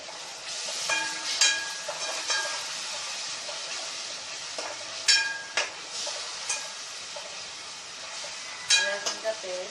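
Ginger-garlic paste frying in hot oil with cumin seeds and black peppercorns for a ridge gourd curry, a steady close sizzle broken by scraping spoon strokes as it is stirred.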